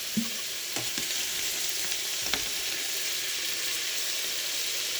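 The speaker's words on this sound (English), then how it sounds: "And it's been browning for about 4 minutes." Beef browns in a Crockpot Express pressure cooker, giving a steady, moderate sizzle with a few clicks and stirring scrapes near the start.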